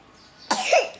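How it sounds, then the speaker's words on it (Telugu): A child with a fever gives a single close, sharp cough, with a brief raspy tail, breaking a quiet background. "దగ్గు ఒకటే బాగా వస్తుంది"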